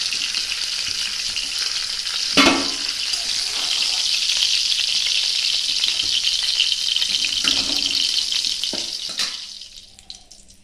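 Fish heads fry in hot oil in a pan, a loud, continuous sizzle with sharp utensil knocks and stirring clatter at intervals, easing off and fading near the end.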